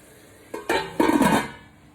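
A metal lid set onto a pan of spices while cooking begun bahar (achari eggplant), giving a few close clattering clinks followed by a short ringing rattle as it settles.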